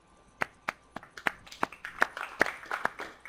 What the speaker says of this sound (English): Hopefully you can hear the clapping